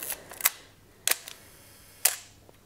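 A Nikon FM2n's mechanical shutter fires at a one-second exposure: a crisp opening click, then a clear closing click about a second later, then another release, all close and dry with no voices.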